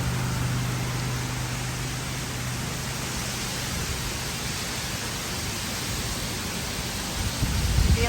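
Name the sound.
hurricane Beryl wind and rain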